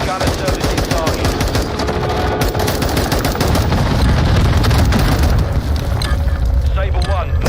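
Sustained machine-gun fire from a gunner in Modern Warfare 2, a dense, continuous roar of rapid shots and rumbling impacts with no pause, loud and close.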